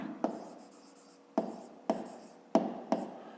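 A pen scratches across paper in short bursts, each stroke starting with a sharp tap and trailing off, repeated about five times at an uneven pace; close, quiet and without speech.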